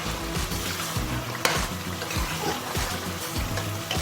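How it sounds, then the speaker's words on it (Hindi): Karahi gosht sizzling and frying in a pan, a steady close crackle and hiss with low stirring scrapes and a brief clatter partway through, no talking. "इसकी भुनाई बाकी है, 5 मिनट और इसको भूनेंगे"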